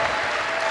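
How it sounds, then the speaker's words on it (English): Applause at a live show for the AV team, a steady dense wash of clapping filling the whole short moment without a break or voice. "So, give them a big round of applause,"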